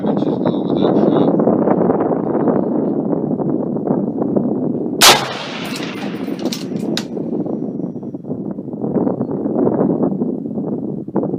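An AR-15 rifle chambered in .277 WLV fires a single sharp, loud hunting-cartridge shot outdoors at a 200-yard range, set against constant wind rumble on the microphone.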